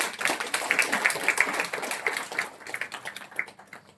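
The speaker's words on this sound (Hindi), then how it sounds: "आप लोग अपने लिए ताली बजाएं।" A seated audience at a spiritual discourse claps, starting as a dense patter and thinning out toward the end as the clapping fades and slows.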